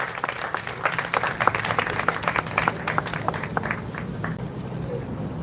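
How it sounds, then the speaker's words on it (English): A crowd at a Juneteenth jubilee community event claps for sponsors, a lively mix of many hands with some sharper individual claps, fairly close and steady throughout the few seconds, without speech. "So let's give our sponsors a round of applause."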